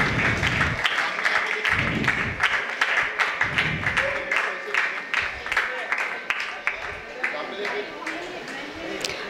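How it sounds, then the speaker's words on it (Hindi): Applause at a school Urdu elocution competition: a crowd claps in scattered, uneven bursts that thin out over time, with people talking over it. "मैं यहाँ पे आपसे तालियों की दरख्वास्त करूँगी।"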